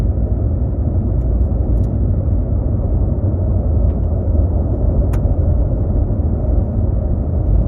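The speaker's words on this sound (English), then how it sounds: "I love driving this dirt road." A car rolls along a well-graded dirt road toward a mountain meadow, heard from inside as a steady, loud low rumble of engine and tires on gravel with a couple of faint clicks, no voices.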